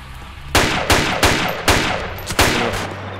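Bursts of automatic gunfire in the ARMA 2 Project Reality combat game, about six loud, sharp volleys spaced irregularly, each with a ringing tail, no speech.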